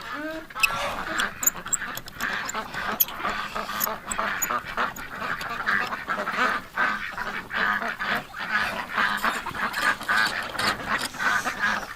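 A flock of geese and ducks, including a broken-winged duck, honk and quack constantly outdoors in winter, a dense loud chorus of overlapping calls close by for the whole stretch.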